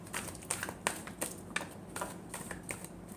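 Tarot cards shuffled by hand in a rapid series of crisp riffling bursts and soft snaps, close and fairly quiet, with no talking.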